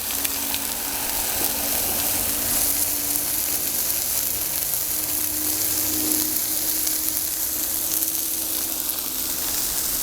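Smash burger patties sizzle steadily on a Blackstone griddle after being pressed with a Ballistic BBQ smasher, a loud, continuous frying hiss with a faint hum beneath and no talking.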